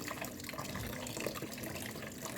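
Running water splashes steadily while cut lote fish is rinsed under a tap in a home kitchen, a close, continuous hissing wash of water with no talk.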